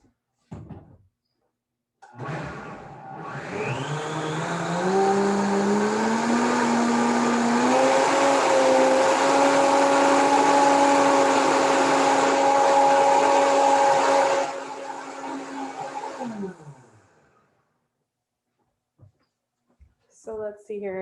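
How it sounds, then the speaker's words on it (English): Kitchen blender whirring through vegan rompope with rum, spinning up with rising pitch into a loud steady high whine for about twelve seconds, then winding down, with brief talk before and after. "Let me give this another blend."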